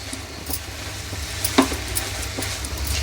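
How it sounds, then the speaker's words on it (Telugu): Grated coconut and milk powder are stirred together in a pan for coconut laddu, making a continuous gritty scraping and soft sizzle with occasional spoon taps, close and moderately loud. "ఈ రెండు మనం మంచిగా మిక్స్ చేసుకోవాలి"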